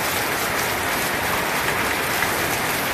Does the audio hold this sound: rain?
yes